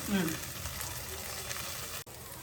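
Okra frying in a pan for a coconut milk curry crackles with a close, steady sizzle that barely dips near the end.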